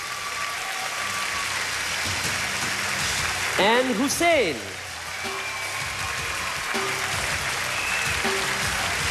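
Studio audience applause for the judging panel on a televised singing competition results show, a dense steady wash of clapping with a presenter speaking over it and a brief tonal vocal swoop in the middle.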